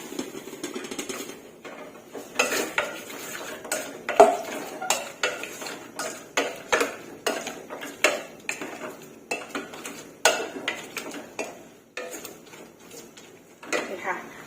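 A utensil stirs minced pork in a metal pot for Thai nam tok, giving repeated rhythmic scrapes and clanks across the whole stretch while someone talks over the cooking.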